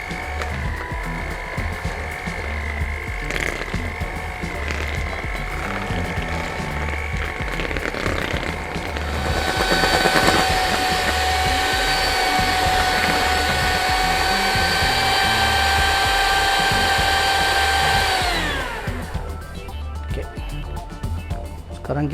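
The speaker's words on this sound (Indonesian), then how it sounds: "Kita pakai hand mixer. Mulai pelan-pelan aja dulu." An electric hand mixer whirs through garlic butter in a kitchen, first low and uneven under talk, then rising to a loud steady whine for several seconds before slowing and stopping.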